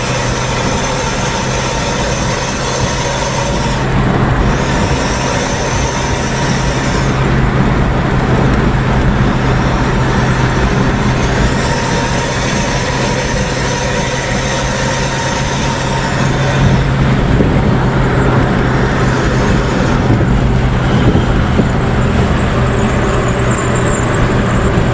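A convoy of night buses on a toll road gives a steady, loud engine and exhaust rumble with a low drone. Road noise swells throughout.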